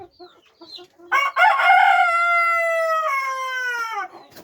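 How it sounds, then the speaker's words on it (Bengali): Farm chickens at a poultry farm cluck briefly, then a rooster gives one loud, close crow that holds for about three seconds and trails off. "অনেক সুন্দর কোয়ালিটিফুল মুরগি।"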